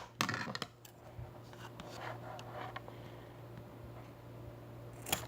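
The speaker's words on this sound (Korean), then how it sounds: "여기까지 아예 가위로 다 잘라버릴 거예요." Scissors cut through an earphone cable near the microphone, making a few sharp, close snips and clicks spaced apart, with faint handling noise between them.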